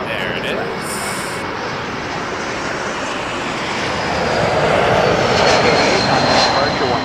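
A jet airliner at Toronto Pearson airport at night, a steady broadband roar of engines that swells louder toward the end, heard from a distance with radio chatter faintly present.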